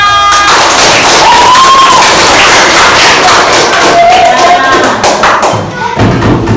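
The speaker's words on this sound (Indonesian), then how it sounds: "Coba tepuk tangannya mana?" Schoolchildren clapping their hands in an elementary classroom, loud busy claps and taps mixed with children's voices and chatter, carrying on steadily for several seconds.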